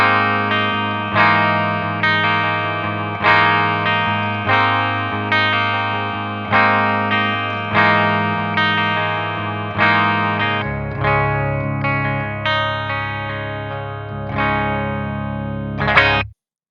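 Electric guitar played with clean tones through the bridge pickup, a steady series of strummed chords with regular attacks and ringing sustain, loud and alone, with a final sharp accent near the end.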